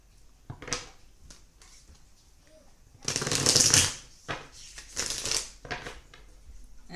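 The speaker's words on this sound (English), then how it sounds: "I will shuffle it again to set the intention for you." Tarot cards being shuffled by hand in close bursts of riffling, a short flick near the start and longer dense shuffles in the middle and toward the end, with quiet pauses between.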